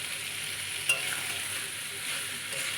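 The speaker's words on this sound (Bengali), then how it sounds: "এখন আলুগুলো দিয়ে দিলাম" Potatoes fry in a pan with goat liver curry, making a soft, steady hiss of sizzling oil with one brief click partway through, fairly quiet and with no talking.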